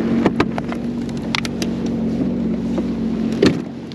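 A Sea-Doo personal watercraft engine drones steadily on Lake Erie, with a low continuous hum under scattered knocks and splashes and a brief louder surge near the end.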